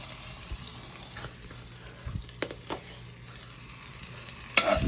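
Ginger for squid adobo fries in a generous amount of hot oil, a soft, close sizzle broken by a few sharp crackles and pops.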